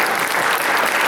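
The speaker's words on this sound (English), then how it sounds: "give them a big round of applause" An audience at a political forum applauds, a brief, dense wash of many hands clapping at once, steady and fairly loud throughout.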